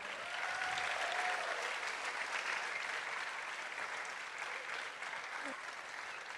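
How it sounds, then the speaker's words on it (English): A theatre audience breaks into a large round of applause after a performance, steady dense clapping filling the room from start to finish and easing slightly toward the end. "you can show that to us by giving us a large round of applause"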